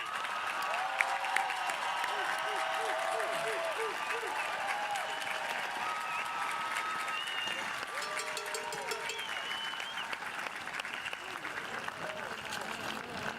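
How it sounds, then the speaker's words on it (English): Commencement audience applauding the graduating class of 2022 at a high school ceremony, a long steady roar of clapping and some cheering, with whoops and voices rising above it throughout. "Can we get another round of applause for the class of 2022?"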